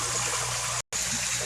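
A Perreha PB 12000 pond water pump pushes a strong stream of water that splashes and trickles in a steady, close rush, interrupted only by one brief moment of silence.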